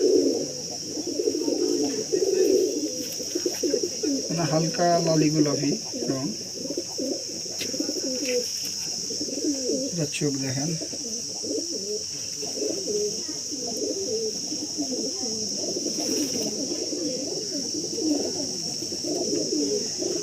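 Teddy pigeons, a male and female pair, coo softly in a steady murmur while someone talks over them throughout.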